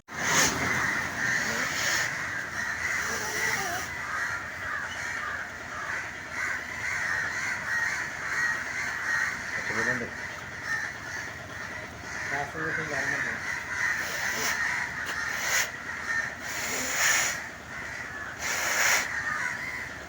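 A crow revived after nearly dying caws again and again, fairly close, while people talk over it and traffic hums in the background.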